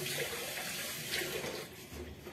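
Tap water runs into a kitchen sink in a steady, hissing stream with a few splashy surges, fairly close and alone with no voices.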